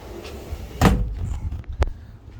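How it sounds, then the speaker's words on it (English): A sliding door in a manufactured home rolls and bumps open with a sharp thud, followed by a second lighter knock and faint rattling, close by and without speech. "Here's the sliding door. Going outside."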